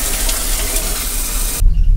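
A shower runs in the bathroom of a ferry cabin, a steady loud hiss of spraying water that cuts off abruptly near the end, with no talk.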